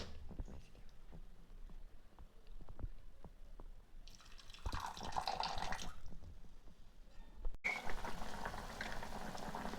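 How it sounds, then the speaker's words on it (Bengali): Egg curry gravy boiling in a pan on the stove, with a run of close bubbling pops, then a brief louder sizzle in the middle and a steady hiss toward the end. "ঝোলটা ফুটছে"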